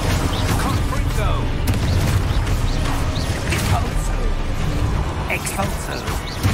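Confringo fire blast spells in Hogwarts Legacy, a dense stream of booming, crackling combat effects and whooshes over loud game music, with a voice talking over the action.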